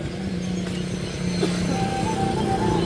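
A stock Yamaha Aerox scooter engine runs steadily and close by, with a constant droning hum and a whining tone that rises partway through, over outdoor background noise.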